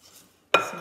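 A utensil strikes a bowl while two eggs are stirred for banana bread, a sudden loud clatter of clinking and scraping that starts partway through after near silence and carries on close by.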